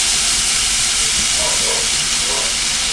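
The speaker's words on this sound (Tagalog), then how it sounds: "Iligay na natin ang langka guys." A kilo of jackfruit dropped into a hot cooking pot, giving a loud, steady steam hiss that fills the whole moment without a break.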